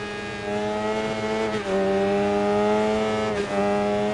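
A motorbike with a stock exhaust in the racing game Ride 4 holds a loud, steady high-pitched engine drone, the pitch dipping briefly at two gear shifts before climbing again, close and with no talk.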